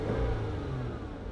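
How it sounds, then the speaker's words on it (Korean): A used Hyundai Genesis sedan with about 190,000 km on it revs its engine nearby, a brief steady mid-pitched hum that swells slightly then settles, heard alone with no talk. "엔진 소리 한번 들려드리겠습니다"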